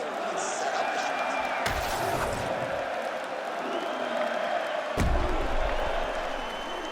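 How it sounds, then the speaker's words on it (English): In the UFC 5 video game, an arena crowd roars in a dense, continuous wash during a fight between Conor McGregor and Khamzat Chimaev, with a couple of sharp impact thuds and commentary voices over it. "the crowd voicing its appreciation after that crazy sequence in the previous round"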